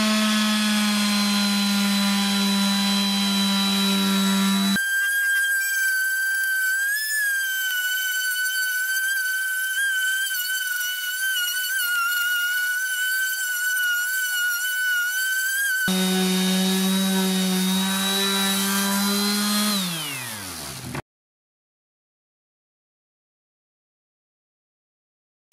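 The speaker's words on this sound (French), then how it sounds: "je vais passer un coup de ponçage grain 120" A Parkside random orbital sander with 120-grit paper sanding a wooden shutter, a loud, steady whining hum that changes tone as it is pressed and lifted, then winds down and stops abruptly near the end.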